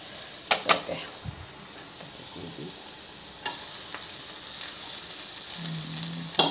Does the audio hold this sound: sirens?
no